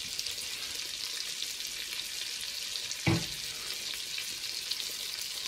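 Steady bright sizzling of steak frying in a hot pan, with one brief louder scrape or crackle partway through.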